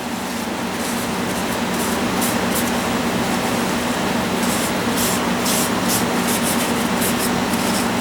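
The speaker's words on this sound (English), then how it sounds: "quick wipe down on the sealing surfaces here" Quick rag wipe over the sealing surfaces of a Honda CB450 lower crankcase during an engine rebuild, giving a steady close scrubbing, hissing rub that runs continuously with a faint low hum underneath.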